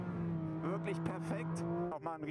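A 2025 Porsche 911 GT3 sports car drives through curves, its steady engine drone holding close and continuous with tyre noise, while someone talks over it throughout.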